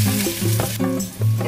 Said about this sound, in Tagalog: Sautay ko na ang ginger